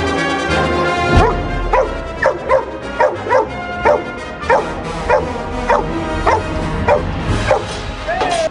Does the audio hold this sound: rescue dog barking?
yes